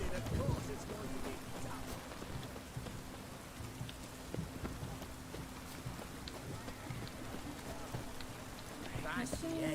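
Steady rain falls in the video game The Witcher 3: Wild Hunt, a soft continuous patter with scattered drops, faint and constant throughout with quiet game sounds underneath.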